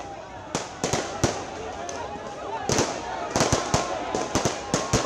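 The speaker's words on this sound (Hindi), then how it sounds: "पटाखे जला रहे हैं आम आदमी पार्टी के कार्यकर्ता।" Firecrackers set off by Aam Aadmi Party workers at a crowded political gathering crack in scattered sharp bursts, some in quick clusters, over a loud continuous crowd roar and voices.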